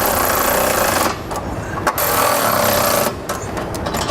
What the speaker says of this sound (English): Now we'll use a 19mm socket and wrench and tighten our hardware.